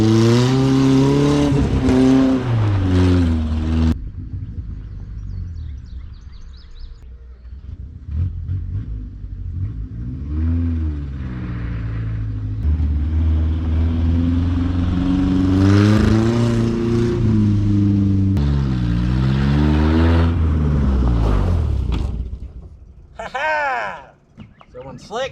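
A 1984 Mazda mini pickup truck, built as a miniature U-Haul, revs its engine while driving, the pitch climbing and falling in repeated surges, loud and close, with people talking over it throughout.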